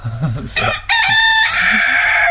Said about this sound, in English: The cockerel.